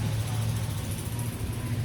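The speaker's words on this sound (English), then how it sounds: "Sorry, that was a really loud truck." Loud truck passing nearby, a steady low engine rumble and road drone filling the short stretch without any talk.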